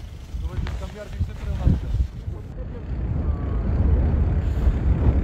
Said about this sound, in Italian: C'è un vento.